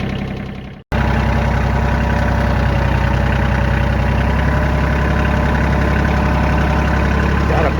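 A Kioti CK27 tractor engine runs close and loud in a steady, even idle-like drone, picking up after a brief cutoff near the start and holding without voices.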